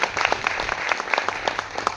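A gathered crowd at a Bonalu festival bandobast claps together in brief, close, lively applause of many overlapping hand claps.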